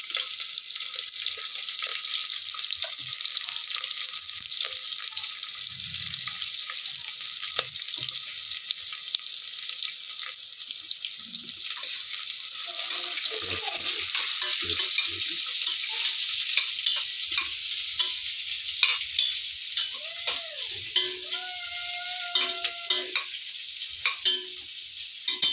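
Green chillies and onions sizzle steadily in hot oil for chicken pulao, with intermittent stirring scrapes and clinks through the frying.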